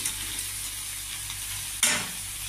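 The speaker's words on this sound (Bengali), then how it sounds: "এবার আমি মাথা ভাজা, বেগুন ভাজা, পটল ভাজাটা দিয়ে দিলাম।" Fried fish head, brinjal and pointed gourd pieces go into cooked-down spice masala in a pan, a soft steady sizzle that flares into a sharp, loud hissing burst near the end as they are added, with no talking.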